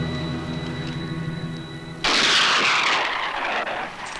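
Long-range rifle fire from a 1971 western film trailer: a sudden loud sharp blast cuts in midway and rolls out into a broad, fading report, preceded by a sustained tonal musical drone.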